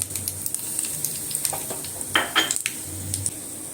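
Kasuri methi dropped into a hot tadka for kadhi, a light ongoing sizzle with close metallic clinks of a spoon against the pan, clustered in a short burst toward the end.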